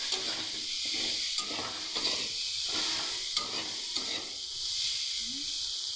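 Ridge gourd frying in a pan with steady sizzling, stirred in a repeating rhythm of scraping strokes, close and moderately loud with no talking.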